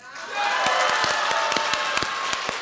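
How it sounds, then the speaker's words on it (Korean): Audience at a Korean political party event breaks into applause, starting quieter then swelling into steady loud clapping with distinct sharp claps and some cheering for a couple of seconds. "조원진 대표님께 다시 한번 큰 박수를 부탁드리겠습니다"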